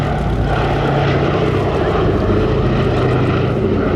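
The Boeing B-17 Flying Fortress G-BEDF 'Sally B' flying at the Midlands Air Festival, its four propeller engines giving a loud, continuous, rumbling drone that stays steady throughout, with no talking.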